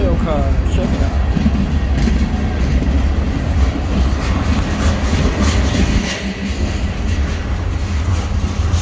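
A BNSF freight train pulled by a single EMD SD40-2 locomotive rolls steadily past at close range in Galesburg, Illinois, a coil car passing, a continuous rumbling roar with faint rhythmic wheel clatter, some talk mixed in.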